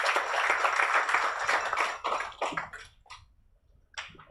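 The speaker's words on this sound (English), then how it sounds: "please give him a round of applause" Audience at an environmental, social and governance awareness session applauding a speaker, a burst of dense clapping that thins after two seconds into a few scattered claps with short gaps of quiet.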